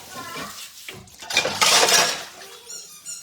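Dishes and cutlery clatter at a kitchen sink during washing up after cooking, with a burst of clinks and a water-like wash in the middle, close and moderately loud, with soft speech-like sounds around it.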